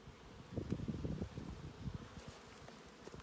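Honeybees on a lifted beehive frame, a soft close buzzing and droning with small knocks and rustles, faint overall and without talk.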